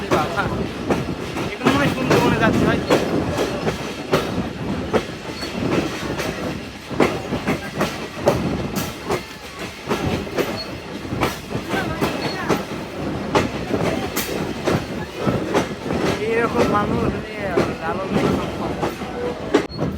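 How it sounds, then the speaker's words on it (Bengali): A local shuttle train rolls into Poradah Junction railway station, with loud, continuous rumbling and rhythmic clickety-clack of wheels over rail joints, close by, with some faint voices in the background. "শাটল ট্রেনটি এখন পোরাদহ জংশন রেল স্টেশন প্রবেশ করলো"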